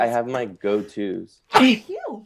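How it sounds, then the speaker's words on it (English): A single loud, sharp human sneeze bursts out between stretches of conversational talk during a casual podcast snack taste test. "Wow, that was a big sneeze."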